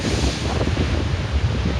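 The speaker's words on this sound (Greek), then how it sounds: "Έχει κύματα. Τα κύματα φτάνουν εδώ πάνω." Sea waves surge and break against a rocky shore on a remote stretch of Evia coast, a steady close wash of surf mixed with gusting wind buffeting the microphone, with no voices.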